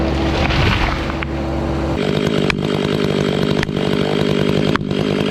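A chainsaw roars steadily at close range while cutting into a huge tree being felled near a home, its pitch dropping and shifting as the chain bites into the wood, with brief dips in the engine note.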